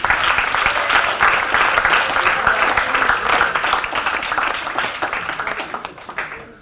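A high school story slam crowd gives a loud, dense round of applause for the storytellers, sustained for several seconds and slowly thinning toward the end.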